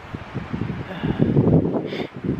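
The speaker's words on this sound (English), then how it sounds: "Oh, sorry if it's windy." Wind buffets a Viking-style tent pitched in snow on a very cold night. It comes as a low, rumbling rush of gusts that rises and falls over a couple of seconds, close to the microphone.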